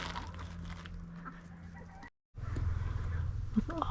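Chickens clucking steadily and close by while being fed carrots and lettuce in a farm setting, with a brief silent gap partway through.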